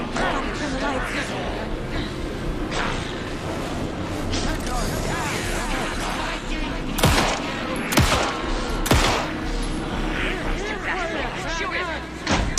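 Bursts of gunfire from Alan Wake 2 ring out amid tense background action, with several sharp, loud shots standing out near the middle and end, mixed with game voices and ambience.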